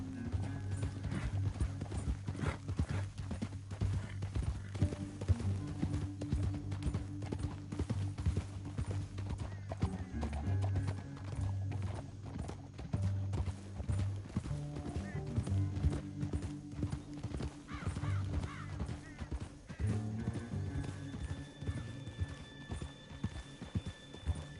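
Horse hooves clip-clopping at a steady canter in Red Dead Redemption 2, rhythmic and continuous under music, with a voice talking at times.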